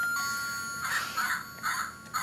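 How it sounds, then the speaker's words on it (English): Musical doorbell at the front door of a newly built house plays a short sequence of bright chime tones in several spaced notes, moderately loud over quiet room noise, with no talking. "here's the musical doorbell."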